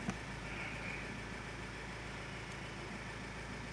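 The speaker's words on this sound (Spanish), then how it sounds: "Ahí tengo prendido el carro ahorita." A 2009 Honda Civic 1.3 hybrid with a random misfire fault idles steadily, a faint, even low hum under broad background hiss with no revving.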